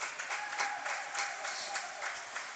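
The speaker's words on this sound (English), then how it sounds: "Got some people cheering here behind me." Crowd of about 15 to 20 spectators cheering and clapping at a 12-and-under swim meet, a steady, fairly loud wash of applause and cheers with repeated surges, no one speaking up close.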